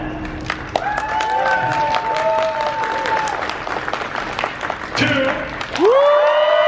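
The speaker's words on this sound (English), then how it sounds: "Round of applause." A horror convention panel crowd breaks into applause, a thick patter of clapping with scattered whoops and shouts rising above it, swelling near the end.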